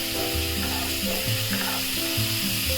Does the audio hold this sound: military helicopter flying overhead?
no